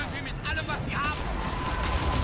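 Gunfire from the video game Mass Effect 3, heard as quick bursts of shots and impacts in a brief combat moment, mixed in with a player's voice and other game sounds.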